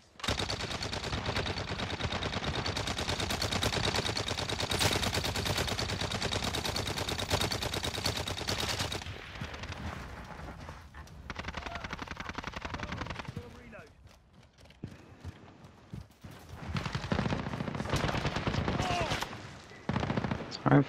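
Rapid automatic gunfire in Call of Duty: Modern Warfare rattles in dense bursts for about nine seconds, then continues in sparser, scattered shots and bursts, with a player's voice talking over the game audio.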